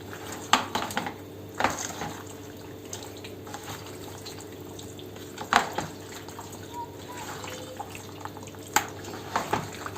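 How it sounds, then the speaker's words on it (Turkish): A utensil stirs a chicken filling in a pan, giving scattered clinks and scrapes of metal with quiet gaps between them, close by over a low steady background hum. "Ve şimdi bu içi karıştırıyorum."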